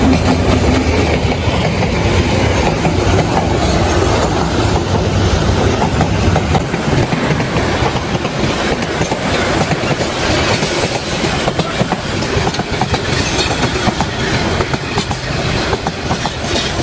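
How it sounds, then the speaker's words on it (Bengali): A train runs along a village railway close by, its loud, continuous rumble and rattling clickety-clack of wheels over rail joints filling the whole stretch, with faint squeals and no voices. "এখন ট্রেন আসতেছে, এই যে ট্রেন, আমাদের ট্রেন রাস্তায় ট্রেন আসতেছে"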